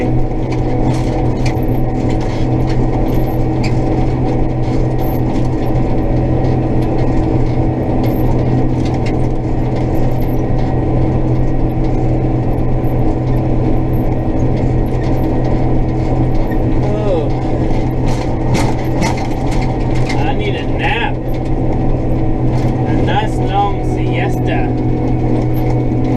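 Swather cutting dry-land wheat in a rough, trashy field, its engine and mechanical drive giving a loud, steady drone with rattling and clicking throughout, with no pauses.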